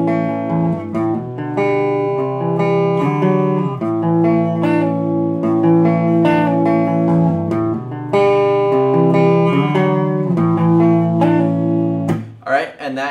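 A short electric guitar lick, picked in a steady pattern of single notes and chord tones, loud and continuous, ending with a quick strum.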